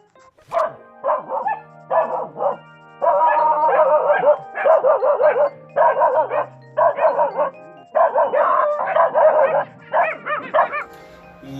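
A dog barks and yips in rapid, repeated bursts close by, some calls drawn out into whiny howls, with brief pauses between the bursts.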